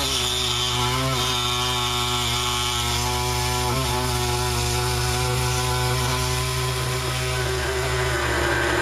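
Chainsaw making the back cut through wood, engine running loud and close at a steady high pitch with a constant droning buzz throughout.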